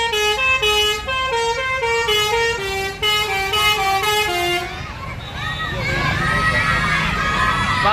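An Asyrof bus blasts its telolet horn, a loud run of stepped musical tones playing a bright melody for several seconds, then giving way to excited crowd noise and children shouting nearby.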